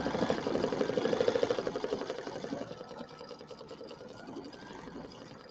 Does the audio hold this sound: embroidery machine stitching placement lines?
yes